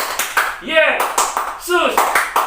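Children at a Sunday school service at an Indonesian church clap their hands in a steady rhythm, close and fairly loud, while a singing voice carries over the claps.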